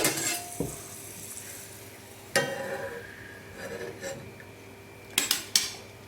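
Garlic murukku dough fries in hot oil with a faint, steady sizzle, broken by metal utensil clinks and scraping against a pan at a few separate moments.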